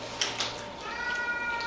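A rescue cat meowing indoors near a kitchen, a couple of short, fairly close meows followed by a drawn-out, wavering cry, with no speech.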